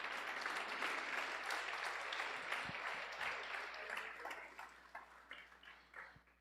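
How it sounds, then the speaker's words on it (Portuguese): Church congregation applause during a family service, a soft, distant patter of many hands clapping that thins toward the end into a few separate claps, with no speech over it. "dê uma salva de palmas a ele"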